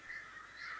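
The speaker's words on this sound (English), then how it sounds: "There's a ton of crows right now." Crows caw outdoors, two faint, drawn-out calls from some distance within a brief moment, with no voices over them.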